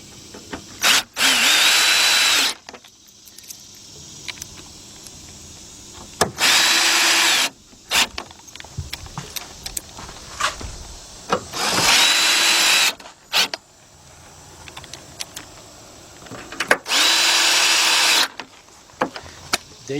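A power drill drives four 7mm screws into the radiator fan of a 2006-2010 Chrysler PT Cruiser, with four loud whirring bursts of about a second or two each, spaced apart by quiet pauses filled with small clicks and handling noises.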